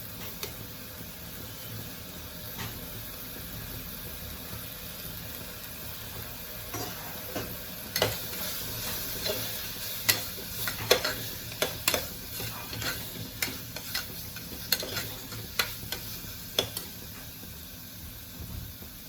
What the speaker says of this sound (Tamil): மிளகாப்பொடி, மஞ்சப்பொடி, தனியா பொடி, கரம் மசாலா இதெல்லாம் போட்டு ஒரு வதக்கு வதக்கிக்கலாம்.